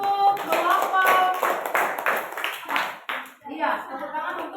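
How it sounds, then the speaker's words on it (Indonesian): Clapping from a group of students in a classroom presentation session, a short burst of many hands mixed with a teacher's talk and voices across it. "Bagus, tepuk tangan untuk kelompok."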